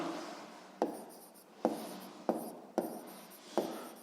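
A pen writes on paper for a sixth-grade math exercise, giving soft scratchy strokes punctuated by five sharp taps as it touches down. The sound is close, quiet and steady, with no one talking.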